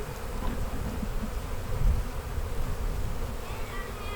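Angry honeybees swarm and buzz around a hive box during queen rearing, a dense, continuous near drone that swells slightly midway and never lets up, with no talking over it.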